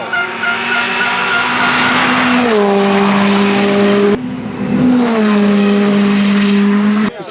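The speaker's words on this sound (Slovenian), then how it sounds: "Ker stojiš tako en meter stran, ker gre 200 mimo tebe, je tako kar adrenalinsko." A WRC rally car blasts past at around 200 km/h at a Croatian rally stage, loud and close, its high engine note dropping in pitch as it passes, then a second car roars by the same way; sustained and alone, no talk.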